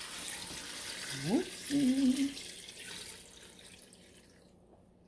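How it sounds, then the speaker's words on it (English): Water runs briefly into a pot of collard greens and turkey necks, a short close splash over a steady background hiss, with a voice speaking a quick word during the pour. "we're going to add some water."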